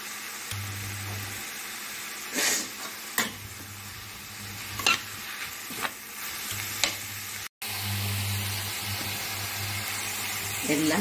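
Tomatoes with salt sizzle in a frying pan over raised heat while a spoon stirs them, the steady frying hiss broken by several sharp scraping and clanking strokes, close and clear without talk.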